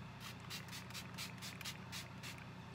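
A rapid series of short spray bursts of setting spray onto a face, about ten quick spritzes in a steady rhythm, close and fairly soft.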